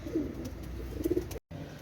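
Pigeons in a breeder's loft cooing softly, with low repeated coos close by and a brief gap of silence near the end.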